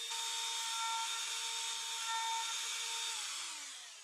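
A brand-new, sharp router bit cuts through a kitchen countertop with masking tape on the surface, giving a loud, steady high-pitched whine that holds for about three seconds before winding down.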